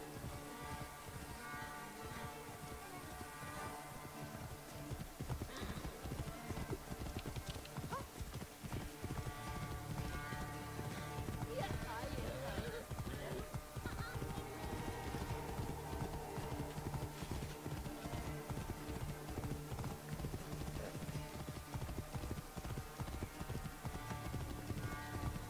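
Hooves clip-clop steadily as a horse moves along in Assassin's Creed Origins, a continuous rhythmic clatter of fairly even steps over game music and ambience, with a voice speaking at times.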